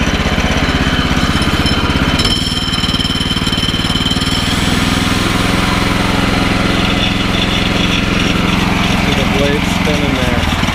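The small engine of a Woodland Mills HM126-14 sawmill roars steadily at high revs, loud and close, the pitch shifting slightly partway through, with a voice faintly audible under it.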